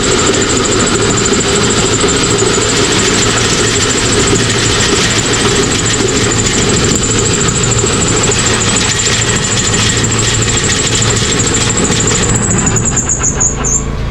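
A coffee huller machine's engine runs with a loud, steady, continuous drone and a constant high whine, holding the same pitch until a slight shift near the end.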